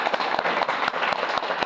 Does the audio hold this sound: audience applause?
yes